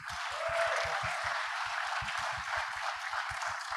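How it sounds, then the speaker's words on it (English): Audience at an inclusive education talk show opening ceremony applauding the speakers, steady, even clapping from a crowd that fills the whole moment with no speech over it. "please big applause for all the speakers today"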